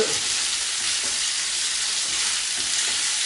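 Pasta sizzles loudly in a pan of rendered guanciale fat, with a steady, dense frying hiss and occasional stirring, no voices.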